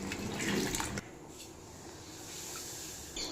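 Water pours briefly into a pressure cooker with a splashing gush, then a quieter trickle and low background hiss, ending with another short splash.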